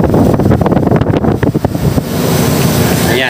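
An air conditioning unit runs after cleaning with a loud, steady, close-up rush of airflow, continuous and broadband, with no voices.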